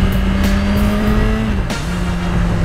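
A 2017 Suzuki GSX-R1000 L7 with variable valve timing revs hard and steadily, its loud tone holding near constant before a brief dip and gearshift-like break, close and alone.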